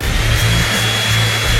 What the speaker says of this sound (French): Juste une seconde, il suffit de le souffler avec une sèche-cheveux.